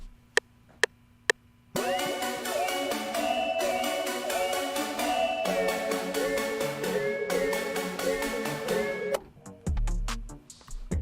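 A mysterious-sounding synth pad preset in FL Studio plays a sustained melodic phrase with sliding pitch bends, clear and alone, preceded by a few sharp clicks and ending abruptly.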